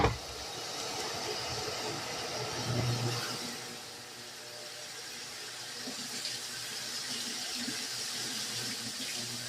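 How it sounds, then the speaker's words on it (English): Liquid poured off a pan of cooking meat, a steady, moderately loud pouring and sizzling wash that swells early and continues evenly for several seconds without talk. "we're going to do this and pour some out"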